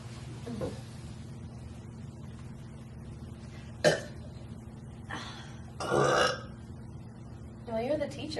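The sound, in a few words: loud burping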